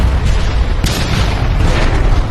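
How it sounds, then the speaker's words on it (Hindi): In a film scene, a broken plane wing strikes the ground and sets off a huge explosion: a loud, sustained roaring rumble with a sharp burst partway through, dense and close throughout. "पंखा जमीन से जा टकराया और एक भयानक विस्फोट हो"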